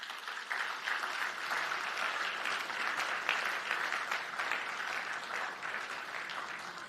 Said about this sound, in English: Another round of applause for His Excellency P.J. Patterson